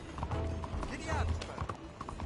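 Hooves of a galloping horse in Red Dead Redemption 2, quick clip-clop beats running under a voice and game noise, with a brief whinny-like tone mixed in.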